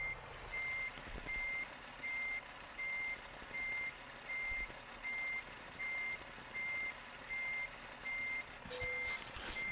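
A truck's reversing alarm sounds in Euro Truck Simulator 2 while hooking up a trailer, a steady evenly spaced series of about ten loud beeps, with a brief mechanical clatter near the end.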